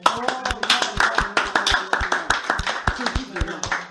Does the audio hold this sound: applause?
yes